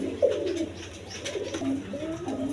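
A pair of female pigeons offered for sale at a Bangladeshi pigeon dealer's, cooing in repeated low, throaty phrases close by, with a faint voice murmuring under them.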